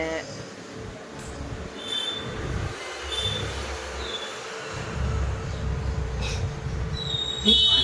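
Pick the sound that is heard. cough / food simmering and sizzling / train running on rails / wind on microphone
train running on rails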